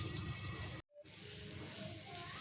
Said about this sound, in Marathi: आता ह्याच्यावरती झाकण ठेवून आपण वाफेवरती शिजवून घेऊया